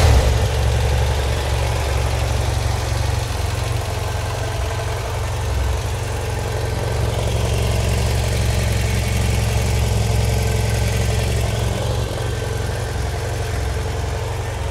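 A motorcycle with about 142,000 km on it, dirty after sitting through a home renovation, idles steadily with a deep, constant low rumble close by. The engine runs evenly with no other sounds over it.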